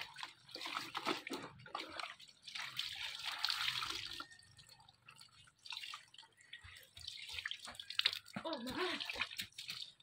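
Clothes being washed by hand in cold water, with irregular splashing, sloshing and dripping that rise and fall, close by and fairly soft, with a voice talking faintly at moments.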